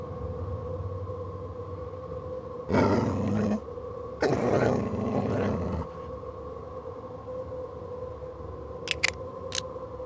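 A wolf in the PC game Agatha Christie: Murder on the Orient Express gives two harsh growling roars, about a second and then nearly two seconds long, over a low steady ambient hum, followed by a few faint clicks.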